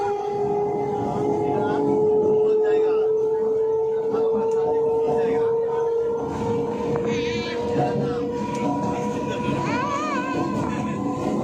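Constant rumbling of a moving train heard from inside, with a steady tonal hum and scattered voices of people talking in the background.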